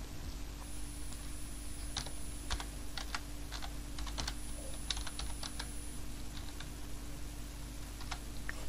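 Close, quiet tapping on a computer keyboard, a loose run of light clicks in short bursts over faint background hum, with no talking.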